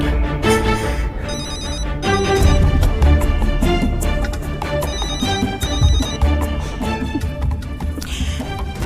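A mobile phone rings loudly and continuously, a repeating melodic ringtone pattern playing close by with no voices over it.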